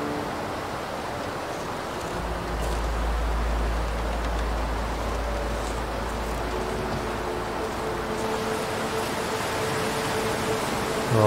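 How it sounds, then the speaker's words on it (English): A waterfall in the survival game The Long Dark gives a constant broadband rush of falling water, steady and moderately loud with no break, heard alone without talk. "Then I stop to check out the waterfall."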